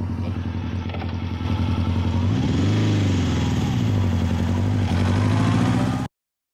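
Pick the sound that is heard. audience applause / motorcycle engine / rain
motorcycle engine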